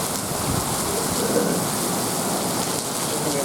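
Heavy rain pours steadily during a thunderstorm in Wichita Falls, Texas, a dense, loud, even hiss with a low rumble of thunder underneath, and no voices.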